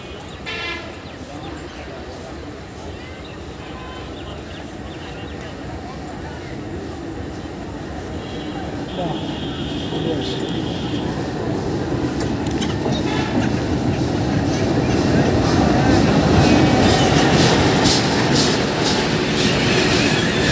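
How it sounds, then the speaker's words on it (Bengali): A train pulls into Singia railway station, its rumble and clatter growing steadily louder over about twenty seconds, with a brief horn tone partway through and faint voices from the platform underneath. "অলরেডি ট্রেন ঢুকে গেছে"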